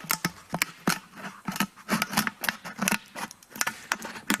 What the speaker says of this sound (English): you cut in between the holes around the fat end. So just chop all the way round